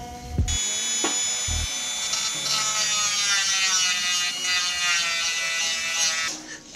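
A Dremel rotary tool grinds a metal wheel bearing race seat on a Datsun, a close, steady high-pitched whine lasting several seconds that rises slightly as it bites, then stops.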